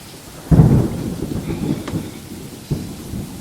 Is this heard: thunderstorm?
yes